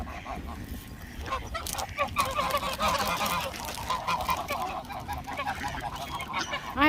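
Geese and ducks in England honk and call repeatedly nearby, with overlapping nasal cries that swell in the middle. Faint voices and outdoor background noise run underneath.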